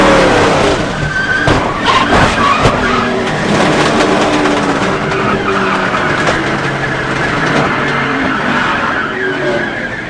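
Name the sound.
NASCAR race car crashing during practice at Talladega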